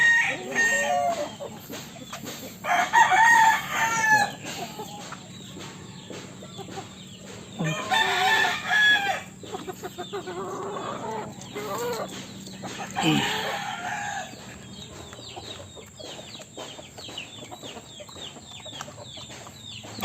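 Backyard pet chickens keep up a busy chorus: a rooster crows several times while hens cluck and call nearby, loud and close, with brief clattering noises mixed in and no talking.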